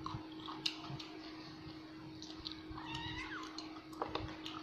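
A house cat meows softly a few times, faint and somewhat distant over a steady low hum, with no one speaking.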